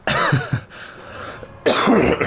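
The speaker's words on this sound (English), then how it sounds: "I got a little bit of a cough still" Two harsh coughs close by, separated by a short pause, with no talking.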